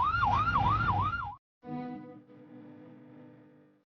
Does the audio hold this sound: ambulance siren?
yes